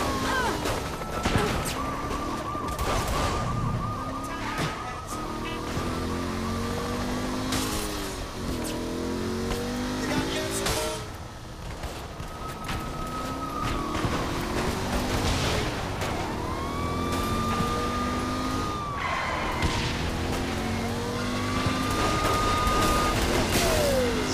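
Demolition derby car crashes in the video game Saints Row 3: revving engines, repeated loud metallic smashes and crunches, siren wails and screeching tires over more than twenty seconds of continuous vehicular chaos.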